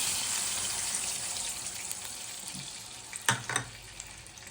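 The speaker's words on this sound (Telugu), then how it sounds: "ఇప్పుడు ఇందులో ఈ పాలు పోసేస్తా" Milk poured into a pan while making custard apple rava kesari, a steady broad liquid rush with a couple of short splashy bursts near the end.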